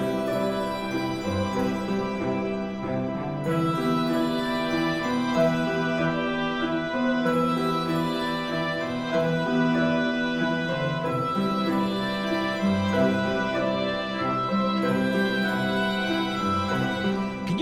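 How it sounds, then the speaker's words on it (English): Harpsichord notes are processed to sound synth-like, playing a sustained, layered melodic passage in dreamy Hollow Knight-style game music, moderately soft and steady with no voices. "can you believe that what you're hearing is a harpsichord?"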